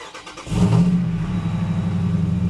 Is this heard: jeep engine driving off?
yes